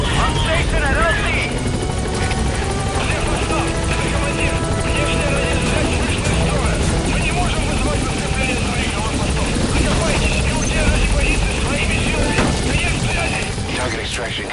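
A helicopter in the Metal Gear Solid V video game thunders close and loud with steady rotor chop for the whole stretch, while gunfire and other game sounds clutter the mix.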